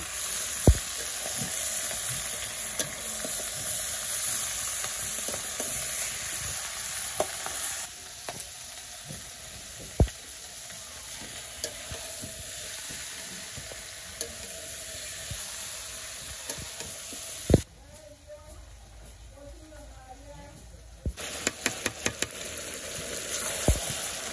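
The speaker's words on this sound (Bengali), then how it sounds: "আমি পেঁয়াজটা হালকা ভেজে নিচ্ছি, মাংসগুলো দিয়ে দিই, মাংসটা কষাইতে থাকি।" Broiler chicken meat and onion fry in a pan with a continuous sizzling hiss, punctuated by occasional sharp spatula knocks and stirring clatters, with a brief quieter stretch midway and no one talking.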